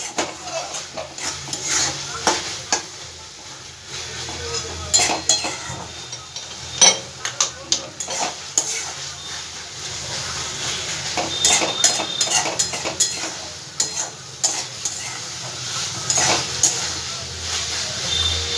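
Filling for a stuffed bread recipe is stirred in a pan over a gas flame, with repeated clinking and scraping of a spoon against metal and a soft sizzle underneath, and someone speaking at times.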